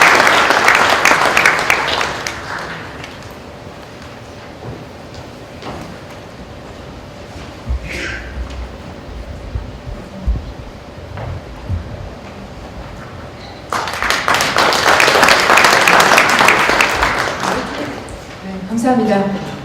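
A forum audience applauds loudly as the keynote speaker is welcomed to the podium, two strong bursts of clapping at the start and again later, separated by a quieter stretch of room noise and brief talk.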